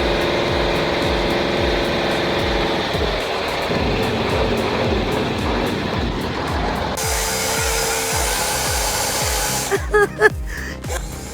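A corded electric saw powered from an extension cord runs continuously during outdoor tree cutting. It gives a loud, steady motor whine with a repeating rhythmic pulse, and the tone shifts near the end.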